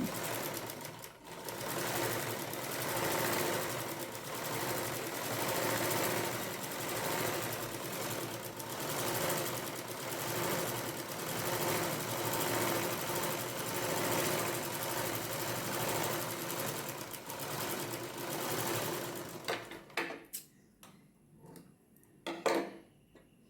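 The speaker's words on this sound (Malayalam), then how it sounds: "കെട്ടിട്ടതിന് ശേഷം നമുക്ക് സ്റ്റിച്ച് ചെയ്ത് കൊടുക്കാം" A sewing machine stitches a half petticoat in a long steady run of rapid mechanical ticking and whirring, then stops near the end and leaves a few sparse clicks and handling noises.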